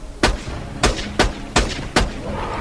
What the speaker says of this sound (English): Is that Skag? Yes, it is. Oh, I missed with 3 shots.